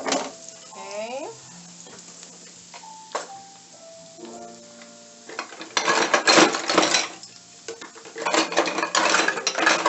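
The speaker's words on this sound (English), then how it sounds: "the onions have been cooking, let's see, for, I would say about a minute" Onions fry in a pan for a salmon Wellington. Brief clinks and tonal utensil sounds come first, then louder bursts of crackling sizzle as they are stirred, with a voice faintly present.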